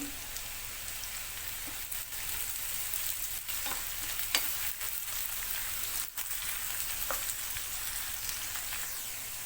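Garlic and onion frying in a pan until reddish-brown, a steady close crackling sizzle with occasional stirring scrapes, no voices.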